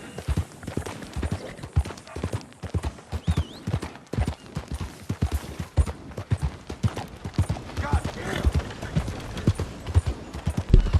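Steady clip-clop of horse hooves on a town street in Red Dead Redemption 2, the rider carrying a body strapped behind the saddle; quick rhythmic hoofbeats run throughout at close range with faint background game sounds.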